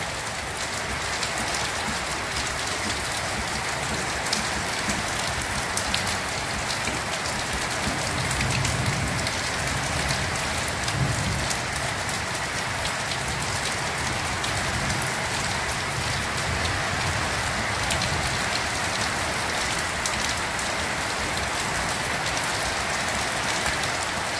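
Heavy rain drums steadily on a tin roof, a dense, constant hiss of drops that never lets up, with no voices.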